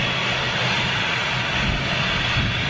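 Embraer 190 jet taking off at London City Airport, a steady broad engine roar with a low rumble filling the whole stretch, loud and continuous without pauses.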